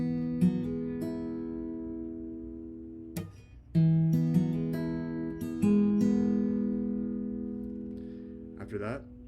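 Guitar riff played alone, with sustained harmonic notes plucked one after another and a hammer-on adding a quick second note after some picks, about six attacks over nine seconds.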